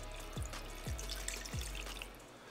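Tap water pouring into a container set out to soak a cubera snapper skull, a steady close splashing with a few sharp drips or thumps at intervals and no talk.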